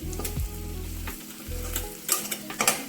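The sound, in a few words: spice powders frying in a pan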